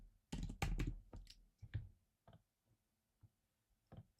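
Fingers type on a computer keyboard, a faint, quiet scatter of key clicks: a quick burst at first, then a few sparse taps trailing off.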